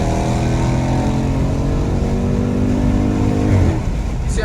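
A car fitted with a cold air intake makes a quick pull, its engine roaring continuously and loudly close by, the pitch climbing gradually through the rev with a slight dip near the end.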